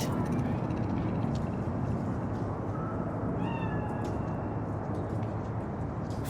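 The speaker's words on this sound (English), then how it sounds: "Do you see it? The cat?" A cat in Cyberpunk 2077 meows a few short times, faint over steady loud city ambience with a low rumble of traffic in Night City.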